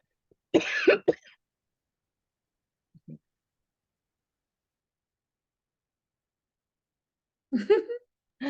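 A few sharp coughs and a throat clearing break a mostly silent stretch, close to the microphone.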